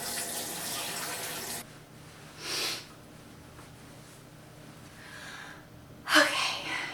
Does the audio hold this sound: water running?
yes